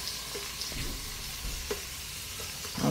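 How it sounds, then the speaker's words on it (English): Tomatoes and meat go into a hot cooking pot, giving a soft, steady sizzle with a few brief clatters and stirring scrapes and a louder clatter near the end, with no talking. "Right now we are ready to add the tomatoes."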